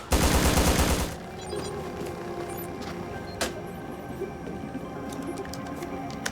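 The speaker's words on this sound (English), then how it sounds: "the Golden Assault lets you flaunt a little as you hail fire at your foes" Golden Assault AK-47 with a 50-round drum magazine in a modded Watch Dogs game: a loud, rapid burst of automatic gunfire for about a second, followed by quieter background action and scattered distant shots.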